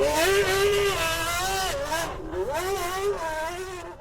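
Renault Espace F1 in Gran Turismo, its V10 engine revving steadily and then climbing again in rising and falling sweeps, loud and close, with no talk over it.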